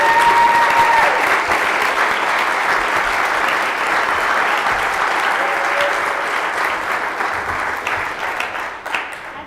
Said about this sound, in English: Everyone, please let's give a round of applause for Ms. Mia Ives-Rublee.